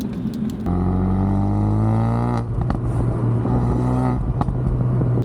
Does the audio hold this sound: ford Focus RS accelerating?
yes